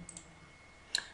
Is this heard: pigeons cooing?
no